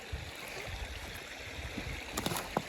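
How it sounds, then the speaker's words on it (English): Water pours steadily over red sandstone in a small waterfall, a constant rushing wash with a few nearby clicks and knocks over it, no talk. "We got a waterfall."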